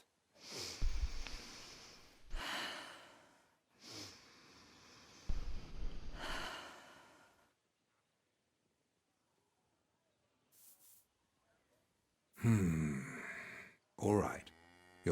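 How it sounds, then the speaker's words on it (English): A character in a medieval church setting takes several deep, heavy breaths, long rasping inhales and exhales with pauses between, close and fairly loud, ending with a couple of sharper gasps. "Take a deep breath."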